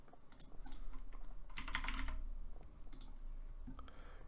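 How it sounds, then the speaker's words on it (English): Rapid clattering keystrokes on a computer keyboard, close and fairly quiet, come in quick bursts with brief pauses and no talking. "you want to type in DayZ"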